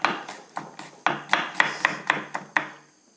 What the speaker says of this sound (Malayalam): ഇതുപോലെ വളരെ നൈസായിട്ട് വേണം ഉള്ളി വെട്ടിയെടുക്കാൻ.